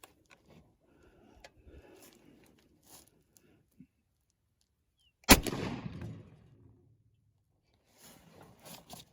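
A 7.62x39mm rifle fires once at a rock outdoors, a single loud crack with a rumbling tail that fades over about a second, after quiet shuffling and before faint movement.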